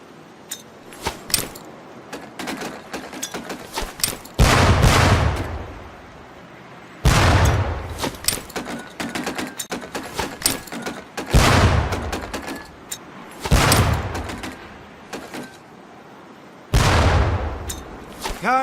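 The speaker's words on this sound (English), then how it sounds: "Pull the pin and let them fly. See if you can hit some of those barrels out there." Training grenades blow up one after another at barrel targets on a Medal of Honor: Pacific Assault boot-camp range, five loud, booming blasts spaced a few seconds apart with quieter clatter and faint voices between them.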